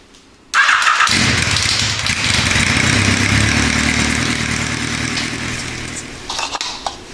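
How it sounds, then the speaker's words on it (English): After a brief quiet moment, a Yamaha FJ1200 motorcycle engine starts abruptly and settles into a loud, steady idle, with a few small clanks near the end. "I've got to start my bike up."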